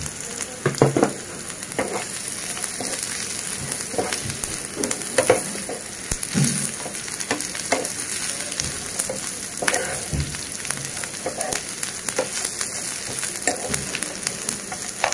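Dried coconut frying in a pan for a Maharashtrian mutton masala: a loud, dense crackling sizzle with scattered pops and spatula stirs throughout, close and steady with no voices.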